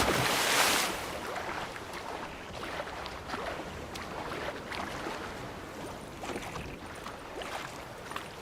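A boat sails across choppy sea in The Witcher video game, with a loud splashing wash at the start settling into a steady rush of waves and water slapping against the hull, plus a light breeze, and no voices.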